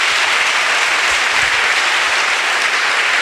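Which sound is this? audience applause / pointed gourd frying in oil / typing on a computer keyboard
audience applause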